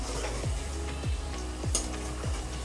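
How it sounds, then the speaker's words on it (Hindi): Chicken kofta sizzles steadily in a hot pan, a continuous frying hiss with a few soft stirring scrapes and clinks spaced through it, close and moderately loud, no talking. "हल्का सा फ्राई कर लें"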